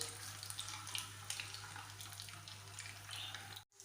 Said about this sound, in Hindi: स्लो स्लो इसको चारों तरफ से हम फ्राई कर लेंगे।